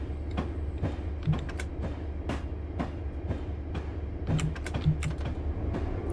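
A freight train hauling empty boxcars in Train Simulator 2020 rolls through light snow, its engine drone steady and loud with rhythmic clicking wheel-and-rail beats throughout.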